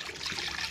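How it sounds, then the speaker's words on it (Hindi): Water being poured into a kadhai to make sugar syrup for gulab jamun, a brief steady splashing trickle heard up close, with no talk over it. "3 से 4 गिलास पानी दे रहे हैं हम इसमें।"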